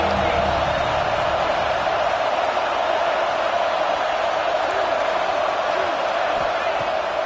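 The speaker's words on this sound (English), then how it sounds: "The Buckeye crowd alive on third down." An Ohio State Buckeye stadium crowd in a college football video game, a steady wash of distant cheering and roaring on third down that holds evenly throughout, with faint bits of commentary underneath.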